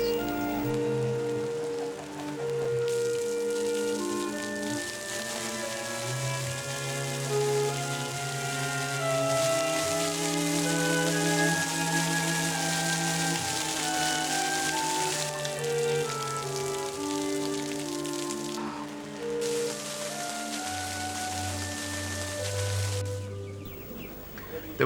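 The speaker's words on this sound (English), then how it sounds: "Just then a major thunderstorm struck." A thunderstorm downpour along the Loire in France brings a steady, broadband hiss of heavy rain, continuous for the whole stretch, with sustained tonal, music-like sounds layered over it.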